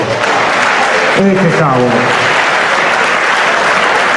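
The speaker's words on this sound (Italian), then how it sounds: "facciamoci un applauso" Loud, sustained applause from a crowd at an end-of-year party in Treviso, continuous clapping filling the room, with a brief spoken exclamation cutting through partway.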